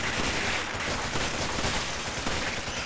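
Dense, continuous gunfire crackles through a Resident Evil 5 fight, a loud unbroken barrage of shots with no pauses and no talking.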